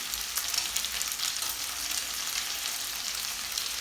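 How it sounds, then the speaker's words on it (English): Homemade meatballs browning in a hot pan give off a continuous, even sizzle and crackle, close and moderately loud, with faint stirring underneath. "They're already browning."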